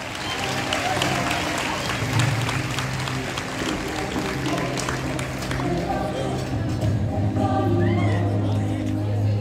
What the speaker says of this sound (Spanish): Un muy fuerte aplauso para el grupo 629, Formación para el Trabajo